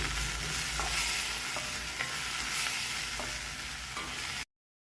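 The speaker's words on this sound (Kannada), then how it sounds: "ಈರುಳ್ಳಿ ಎಲ್ಲ ಚೆನ್ನಾಗಿ ಫ್ರೈ ಆಗಿದೆ." Onions frying in oil in a pan as chopped tomato goes in, for a vangi bath, a steady close sizzle running throughout with faint stirring clicks, then abrupt silence near the end.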